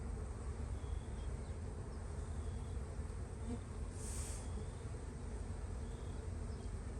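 Honey bees swarm over a hive frame during a spring inspection, a constant dense buzzing hum that stays close and steady throughout, with a brief faint sweep partway through.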